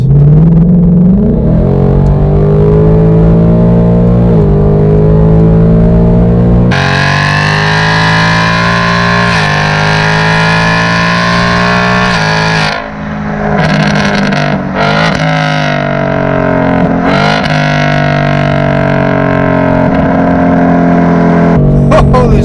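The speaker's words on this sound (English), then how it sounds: "Let's go ahead and give it a little bit of gas." A 2018 Mustang GT V8 fitted with an X-pipe and active exhaust revs loudly and close by, a deep sustained rumble that rises, steps up sharply, then dips and swells again through several throttle blips.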